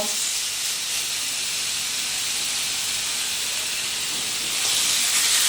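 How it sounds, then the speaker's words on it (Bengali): Marinated chicken tikka pieces go into a lightly heated kadai, producing a continuous broadband sizzle and steam hiss that swells louder near the end, close and without speech. "এই যে ম্যারিনেট করা মাংসগুলো, এগুলোকে আমি কড়াইয়ের মধ্যে দিয়ে দেব"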